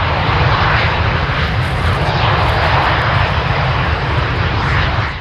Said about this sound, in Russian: Легкие реактивные штурмовики Л-39 уносятся в небо под аплодисменты зрителей